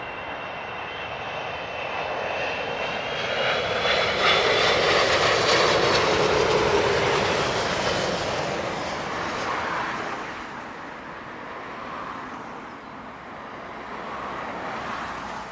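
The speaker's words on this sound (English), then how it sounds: "this is Delta 58 in from Boston on an A320" A Delta A320 airliner in from Boston passes at Heathrow Airport, its engines swelling into a loud, broad roar that peaks midway and then eases into a fading rumble, with no talk.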